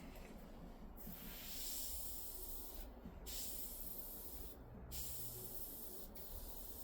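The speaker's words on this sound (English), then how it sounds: "Again, that's control with the airbrush." An airbrush spraying paint while laying down fine veins and capillaries on a Sith Blood Trooper figure, a soft continuous airy hiss that cuts off briefly a few times, close but quiet, with no one talking.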